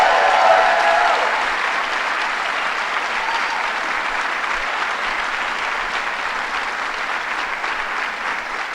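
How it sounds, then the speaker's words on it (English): Sustained, even applause from a large audience at a government biotech announcement, loud at first and holding steady for several seconds with no talking over it. "let's start by giving Dr. Candace Johnson a real champion's round of applause because what she did."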